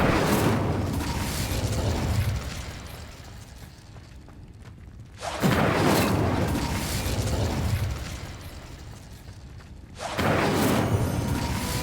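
Incendio fire spell blasts from the Hogwarts Legacy video game on Xbox Series X: three loud roaring bursts at regular intervals, each swelling then fading into a lower rumble before the next blast.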